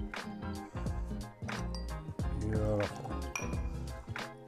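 Glasses clinking in a toast over a meal of Hainanese chicken rice, several bright clinks and rings among loud, lively voices close by.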